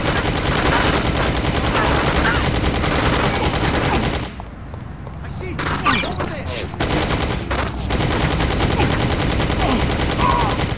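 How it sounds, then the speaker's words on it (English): Rapid gunfire from the video game Just Cause rattles in dense, loud bursts, breaks off briefly into quieter scattered shots and rumbling, then resumes as heavy continuous fire. "Rico, time to hear some bangs over there"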